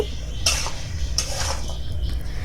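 Vegetable stir-fry of stalks stirred in a pot and covered with a lid, heard as two sharp metallic clanks of utensil or lid against the pot over a constant loud kitchen hum.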